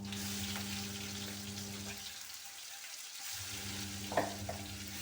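Masala of onions and spices cooking in oil for a green pigeon pea curry, a steady close sizzle with soft stirring scrapes, briefly dropping away midway before returning, with a small clink near the end.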